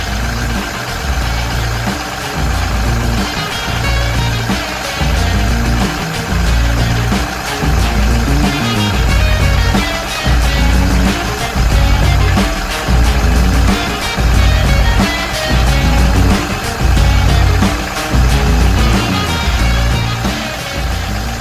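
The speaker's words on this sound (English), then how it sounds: "that smooth idle, that smooth diesel idle, that sounds great" A Ford Super Duty 6.0 diesel truck engine idles after oil cooler work, a loud steady rumble with an even pulsing clatter that keeps repeating at a regular rhythm, heard close up with no voices.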